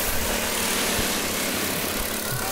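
Backyard go-kart engines drone together as karts race side by side around a speedway oval, a dense continuous buzzing roar from several small motors heard at a distance, no talk.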